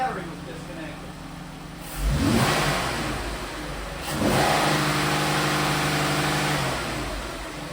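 A heavy Ram truck engine revs up twice, each swell of roar rising then settling back to a steady rumbling idle, close by.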